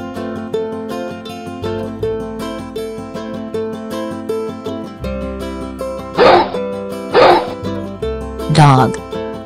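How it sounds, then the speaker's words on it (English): A dog barks three times over a children's song, short loud yelps standing out against steady backing music, with a voice near the end. "Dog."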